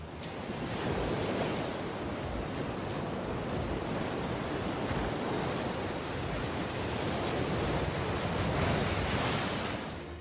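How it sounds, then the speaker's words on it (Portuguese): Big ocean waves breaking on the coast, a continuous loud roar of surf and rushing water filling the whole stretch, with no voices. "As grandes ondas que atingem a costa são obviamente espetaculares e um pouco assustadoras."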